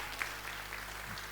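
Applause from an audience at a company's first-anniversary event in Patna, a brief, dense wash of clapping, steady and fairly loud, with no talk over it.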